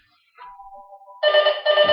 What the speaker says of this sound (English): Oh, sorry, my phone's ringing.